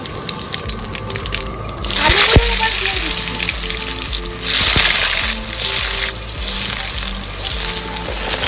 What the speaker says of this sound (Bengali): আলু ভালো করে ভাজা হয়ে গেছে